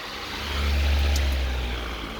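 A 2012 Mercedes E63 with a rebuilt engine starts up close by, firing into a steady, loud low idle that swells after half a second and holds to the end, with no talking.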